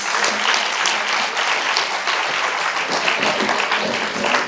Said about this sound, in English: Please welcome her with a big round of applause.